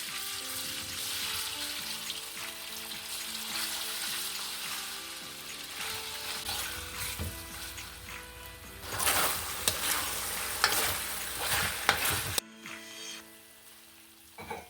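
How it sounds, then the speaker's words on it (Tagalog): Beef searing in olive oil in a hot wok, a loud, dense sizzle and crackle that continues throughout, swelling into sharper spatters and pops near the end before cutting off abruptly. "Then sear the beef for a few minutes."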